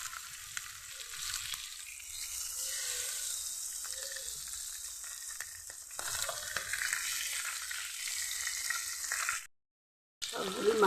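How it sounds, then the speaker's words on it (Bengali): Pabda fish sizzle as they are added one at a time to hot oil seasoned with kalonji, a steady close frying hiss with brief clatters, then a short silence before the crackle returns. "এখন একটা একটা করে মাছ দিয়ে দিচ্ছি।"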